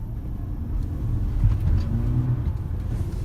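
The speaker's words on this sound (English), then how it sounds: "let's do a little bit of acceleration, because I'm keen to see how this electric plug-in hybrid car" A Mitsubishi Outlander PHEV plug-in hybrid SUV accelerating, heard from inside as a low, rising rumble that swells briefly and then steadies.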